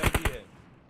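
Three rapid bursts of gunfire crack out in quick succession in a mobile battle royale game, followed by a quieter stretch and one final sharp shot at the end.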